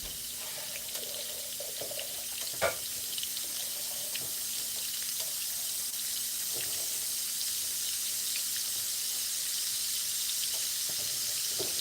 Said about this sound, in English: I'm just going to dump the water because I don't want to mix the two.